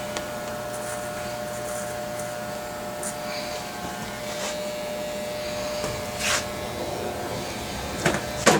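An electric hair trimmer buzzes steadily during a close-cut men's haircut, a constant near hum with a few brief clicks and knocks toward the end.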